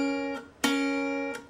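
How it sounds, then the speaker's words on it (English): A guitar double stop pinched with thumb and index finger in a Delta blues lesson style, sounded three times with ringing sustain between attacks, close and clear with no voices. "that first chord will sound like this when you play this double stop"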